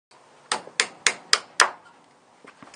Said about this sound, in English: I'm going to take off the cotter pins